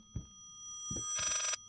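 A telephone rings in the video game Layers of Fear, a brief bright electronic ring following two soft low thuds, faint and isolated.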